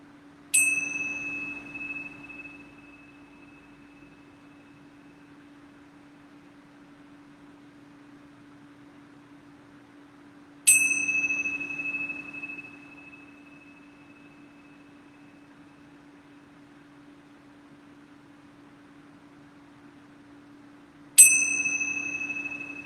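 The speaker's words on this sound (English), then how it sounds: "I'm going to ring these yoga bells 3 times." Yoga bells rung three times, each a bright ringing strike that decays slowly, spaced about ten seconds apart over a steady low hum, with no talking.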